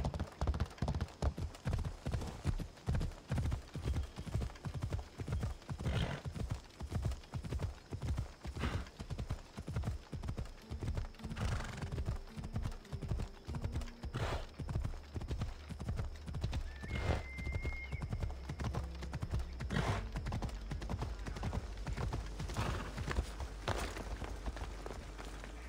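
Horse hooves clip-clop in a steady trotting rhythm in the video game Assassin's Creed Odyssey, close and clear throughout, with a whinny partway through and faint game sounds underneath.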